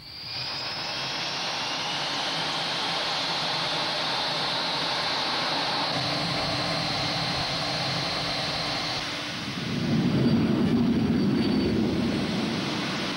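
Military jet taking off, a loud sustained roar of engine noise that holds steady, then shifts to a deeper rumbling surge near the end, with no talk over it.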